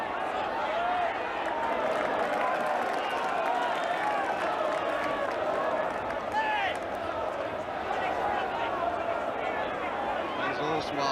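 Football crowd at a Division Two match between Barnsley and Portsmouth, a steady, dense roar of voices with scattered whistles and shouts running unbroken throughout, loud and continuous as the supporters react to a goal.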